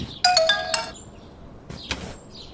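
A cellphone ringtone in an Ilocano drama scene: a bright electronic melody of stacked tones plays in a short burst, pauses, then a second brief burst follows, clear and close.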